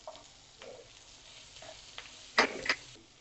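Onion, curry leaves, ginger and chillies frying in a pan, with a soft sizzle, faint stirring scrapes and two louder bursts of spatter near the end.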